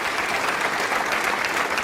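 Crowd applause at a professional snooker match, Champion of Champions 2019, a steady dense wash of clapping from a large audience, sustained and fairly loud throughout.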